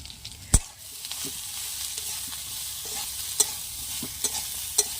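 Soybean chunks with turmeric and salt frying in a pan in the Sundarbans, heard as a faint, soft sizzle with sporadic sharp spatula clicks and stirring scrapes, no voices.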